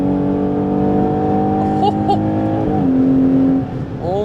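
Ferrari Purosangue V12 engine on the road, a steady loud drone with sustained harmonic tones, shifting pitch slightly as it pulls and then changes gear near the end, heard from inside the car.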